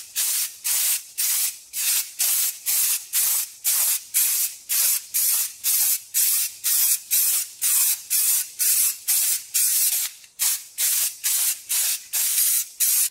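Aerosol spray can coating brake parts against rust on a Tri-Five Chevy, with about two dozen short, sharp hissing bursts in a steady, quick rhythm, close and loud.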